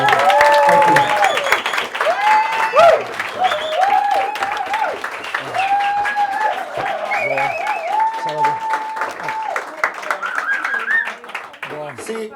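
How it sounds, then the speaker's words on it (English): An audience at a magic show claps steadily for the night's performers, with dense applause running throughout and mixed with a voice and tonal sounds. "Give everybody that's performed tonight a great round of applause"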